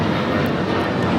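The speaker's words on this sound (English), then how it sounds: "This is Alaska Airlines" An Alaska Airlines Boeing 737-900ER takes off at LAX bound for Los Cabos, its engines a loud, broad, continuous roar filling the brief moment without speech.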